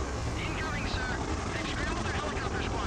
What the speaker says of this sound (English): helicopters are scrambling.